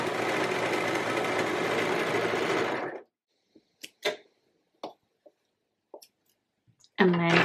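A sewing machine stitching fabric for a reversible dress, running in a steady close whir for about three seconds, then stopping, followed by scattered small clicks and handling noises.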